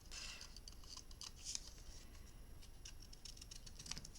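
Scissors snipping paper for a baby's first Christmas mini album, faint quick crisp cuts in a soft irregular patter, close and quiet with no talk.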